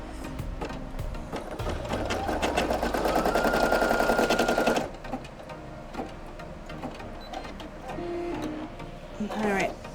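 A Brother PE800 embroidery machine stitches an applique, its rapid needle chatter loud and steady for about five seconds, then easing into quieter intermittent stitching alongside a speaking voice.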